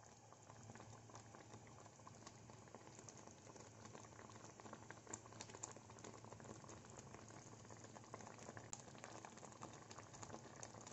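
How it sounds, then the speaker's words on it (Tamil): A pot of Bombay sambar boils gently, a soft continuous bubbling and popping that stays quiet and steady throughout. "இது வந்து கொஞ்சம் கொதிக்கிற வரைக்கும் நம்ம வெயிட் பண்ணலாம்"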